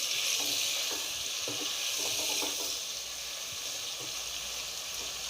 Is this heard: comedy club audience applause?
no